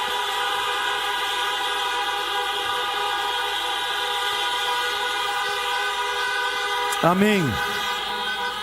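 A congregation's car horns honk in answer to a pastor's call at an outdoor drive-in church service, a sustained chorus of tones under the preacher's voice, with one horn sliding and sweeping near the end.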